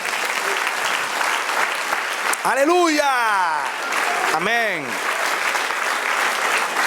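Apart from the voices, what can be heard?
church congregation applause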